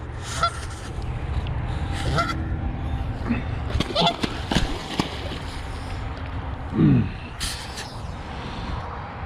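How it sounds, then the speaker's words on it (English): A goose caught in a trap gives several short, loud honks among rustling and movement close by, with a harsher squawk near the end, while low voices murmur in the background. "we did get us a goose this morning"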